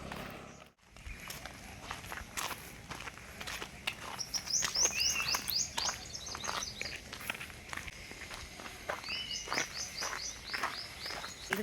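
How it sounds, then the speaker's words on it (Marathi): Birds chirp and tweet in short bursts over steady footsteps on a morning walk in a cool, quiet outdoor spot near home, the song fairly faint and intermittent. "पक्ष्यांचा खूप छान मधुर असा आवाज येत होता"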